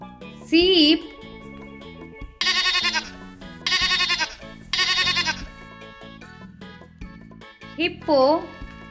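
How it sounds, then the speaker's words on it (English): A sheep bleats loudly and close in several wavering calls, with separate bursts in between and pauses of near silence. "sheep,"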